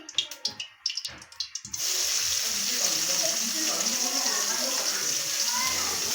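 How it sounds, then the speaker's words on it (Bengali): Chopped onions frying in oil for a spicy Bengali dish, a steady loud sizzle that starts after a couple of seconds of clinks and handling and continues evenly to the end. "পেঁয়াজগুলো লাল লাল করে ভাজা হবে"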